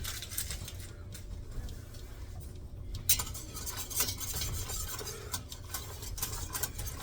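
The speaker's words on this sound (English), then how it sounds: "So we just want to stir it real good" A mixture is stirred in a pot with a utensil, producing close, repeated scraping and light clinking against the metal over a steady background rumble.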